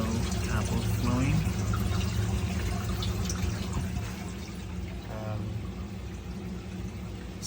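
Water streams steadily from an auto top-off line into a saltwater reef aquarium, a constant close pour and trickle that fades slightly partway through, with a voice talking briefly over it.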